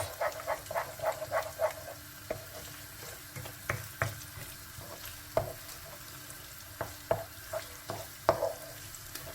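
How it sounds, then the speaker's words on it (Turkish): Eggs are stirred and fried with brain in a pan, a soft sizzle broken by a series of quick scraping and clicking stirs that come in irregular bursts at close range. "Bu şekilde karıştırarak kavuruyoruz."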